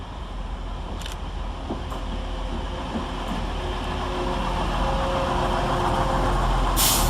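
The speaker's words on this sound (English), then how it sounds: "Trundling next through the station is 185147 and 185129, working 1P70 from Transpennine Express from Redcar Central to Manchester Airport." Two coupled TransPennine Express Class 185 diesel units trundle through Deansgate railway station, a steady loud rumble that swells as they pass, with brief metallic squeals and a sharp hiss near the end.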